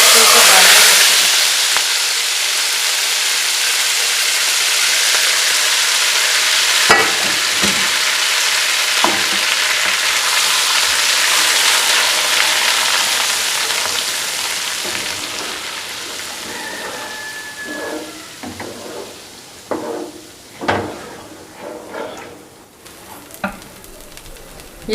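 Hot rogan tempering oil poured over Lahori chicken cholay hisses in a loud burst that slowly fades, followed by scattered clinks and spoon knocks as the sizzle dies down, with no talk.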